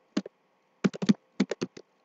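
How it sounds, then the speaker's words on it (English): A loud computer keyboard gives quick clusters of sharp keystrokes, close up and isolated, with brief gaps between bursts of typing. "I type fast and my keyboard's really loud."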